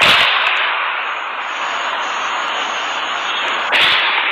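Two gunshots on surveillance video of a botched robbery at an apartment complex, one sharp crack at the start and another near the end, over a loud, steady hiss and no talking.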